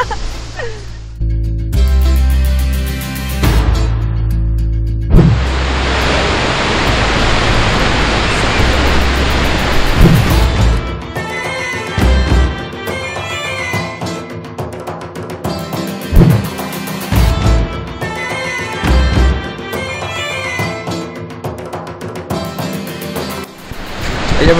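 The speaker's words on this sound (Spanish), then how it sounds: "Esta es la impresionante cascada" Skógafoss, a 62-metre waterfall in Iceland, roaring as a broad, loud, steady rush of falling water, with brief bursts of wind buffeting and a few exclamations over the noise.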